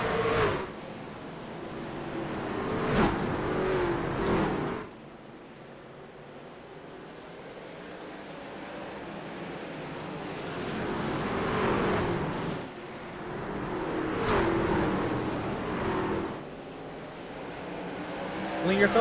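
Dirt-track race trucks roar around Bristol in the iRacing sim during an Outlaws Gunman Trucks round, a steady engine drone rising and falling as the pack passes, with commentators talking over it throughout.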